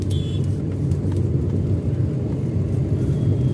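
A car engine drones low and steady while driving slowly through rush-hour traffic, with a constant close rumble and a brief faint high tone near the start.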